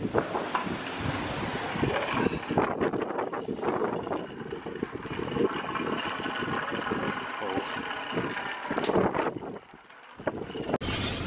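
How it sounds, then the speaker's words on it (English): Strong wind buffets the microphone in a constant roaring rumble at a marina, with a low engine hum and occasional bumps underneath. "it's getting really windy, so we're probably going to not be able to hear us now"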